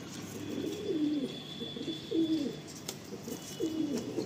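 Young Madrasi pigeons coo in soft, low, rolling phrases, three distinct bursts spaced about a second apart, close by over a faint steady background hum.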